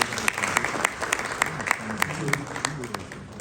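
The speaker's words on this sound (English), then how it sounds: "A big round of applause for him, please." Audience at a West Africa music and arts festival panel discussion clapping for a speaker, a moderate, loosely scattered patter of individual claps with sharp hand strikes standing out, fairly soft and heard from a short distance.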